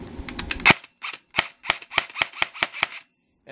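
An unloaded airsoft MP5 replica shooting in semi-automatic mode, about a dozen sharp, close snapping shots fired one by one in a fairly even rhythm, with short gaps between them.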